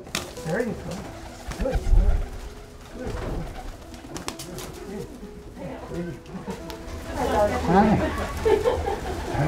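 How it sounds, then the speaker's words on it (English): A fancy pigeon coos repeatedly in soft, rhythmic throaty phrases up close, with a person talking quietly alongside in an indoor rescue setting. "Fancy pigeon"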